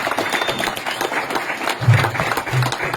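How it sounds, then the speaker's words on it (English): Round of applause from guests at a Knights of Columbus clay shoot fundraiser for Special Olympics, a moderate spread of clapping with a few low thumps midway, no talking. "Let's give them a round of applause."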